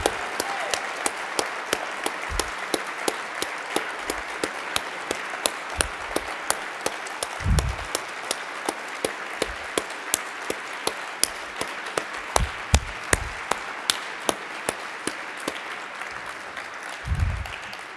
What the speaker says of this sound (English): Let's give a round of applause to Andy González.